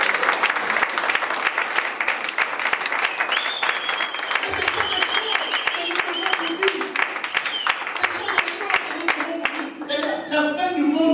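A church congregation applauds and cheers for the Lord in sustained, dense clapping with shouts and whistles. A voice rises over the crowd near the end.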